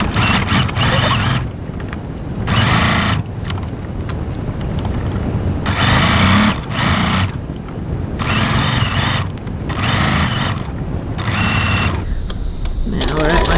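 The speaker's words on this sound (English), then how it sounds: "we're going to go over to the sewing machine and stitch" A domestic sewing machine stitches fabric in repeated loud bursts, each run of rapid needle chatter broken by short pauses, with a voice speaking faintly underneath in places.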